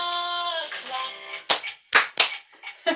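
Several sharp hand claps ring out in the second half, three or four distinct loud smacks spaced irregularly, following a sustained sung or voiced tone at the start during a children's active wellbeing exercise session.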